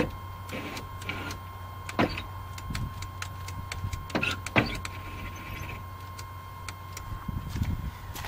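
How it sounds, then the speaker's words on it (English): Rear power window of an old Jeep Wagoneer under restoration, motor whirring steadily as the glass travels, with sharp clicks and clunks at the stops against a constant electrical hum. "I was gonna see if the back window doesn't go up and down."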